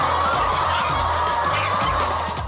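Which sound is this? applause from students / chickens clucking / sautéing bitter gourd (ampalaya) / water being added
chickens clucking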